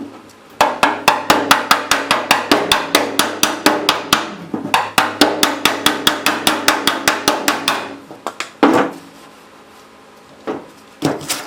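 Sharp metallic hammer blows on a dolly straighten a Ford F100 truck fender, a rapid steady run of close, loud strikes, a short pause, then another fast burst, ending in scattered single taps and a scraping shift of the dolly.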